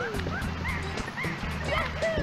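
A pet dog gives several short yips and barks, spaced irregularly across the clip, close by and fairly loud over a steady low background hum.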